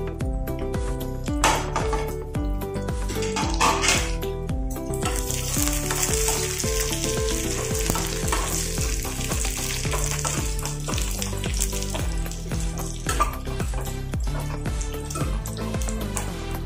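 Dry red chillies go into onions frying in a pan, producing a loud, continuous sizzle with occasional stirring, layered over steady tonal background music.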